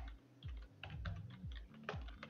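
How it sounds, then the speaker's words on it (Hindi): Quick, close keystrokes on a computer keyboard come in soft irregular bursts, with faint low background tones and no speech. "यहाँ पे हम टाइप कर देंगे ब्यूटी पार्लर"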